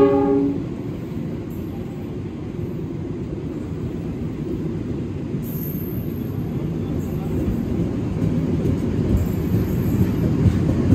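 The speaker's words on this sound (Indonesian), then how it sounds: "Kereta api komuter Supas pakai lokomotif CC206 ya." Supas commuter train hauled by a CC206 diesel locomotive at Pasuruan station, a steady loud rumble of locomotive and rolling cars with a brief horn-like tone at the start and a hiss joining midway.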